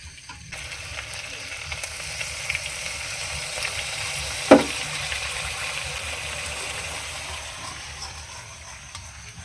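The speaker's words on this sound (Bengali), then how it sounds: "পোস্ত বাটা দিয়ে একটু নাড়িয়ে নেবো" Fish and potato pieces frying in a pan with poppy seed paste, giving a steady close sizzle with soft stirring and one sharp clack of the utensil partway through, no voices.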